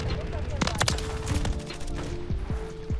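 A short cluster of sharp gunshots strikes the player in Call of Duty Modern Warfare 3, followed by a few sparser impacts over steady game background noise.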